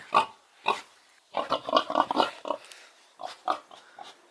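A large hog in Armenia gives deep, throaty grunts in bursts, some quick and clustered, others spaced out, close and fairly loud with short pauses in between.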